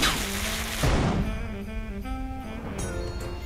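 Cannon blast in the Sam & Max video game, one booming shot followed by rumbling debris and a trailing tonal musical sting, moderately loud with no talk over it.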